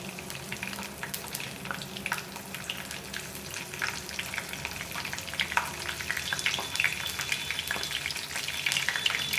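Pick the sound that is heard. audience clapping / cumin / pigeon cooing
cumin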